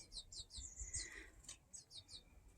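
A baby American goldfinch begs its mother for food with repeated thin, high chirps in quick clusters, faint and somewhat distant against outdoor background noise.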